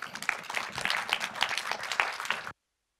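A room of students and guests at a school project presentation claps to welcome the next group, a close, lively patter of many hands with distinct individual claps, ending abruptly.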